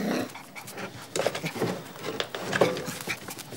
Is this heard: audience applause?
no